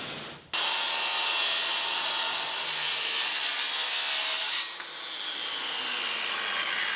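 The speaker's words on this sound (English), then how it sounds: "The battery-powered jigsaw is so nice for trimming." Battery-powered jigsaw steadily sawing through wood sheathing, loud and close, running continuously with a brief shift in pitch partway through.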